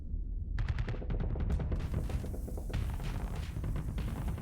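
Ship weapons fire in the space combat game Starsector, a rapid burst of repeated shots with a thumping low end that runs continuously and sounds loud and close, like autocannon fire, with no voices over it.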